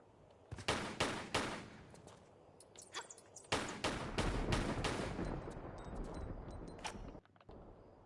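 Shotgun blasts from Lara's weapon in Tomb Raider 4: The Last Revelation, several loud, close booming shots at uneven intervals, each with a sharp attack and a short decaying tail, and no voices over them.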